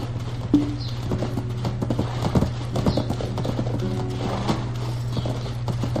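Hooves clop in an uneven walking rhythm over a steady low hum in the Black Desert video game, with a brief horse whinny near the start.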